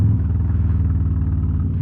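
A Harley-Davidson Road Glide ST with a Sawicki Speed exhaust rides close by, its deep V-twin rumble loud and steady with a rapid, even pulsing lope.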